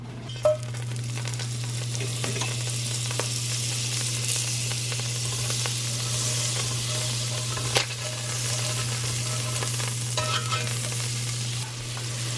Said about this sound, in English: I'm going to go ahead and saute some onions in our cast iron pot